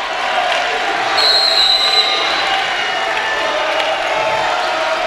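Bulldog home crowd at a basketball game rising to its feet as Lincoln prepares to inbound, a steady broad roar of voices and cheering filling the gym throughout, with a brief whistle-like tone and no clear speech.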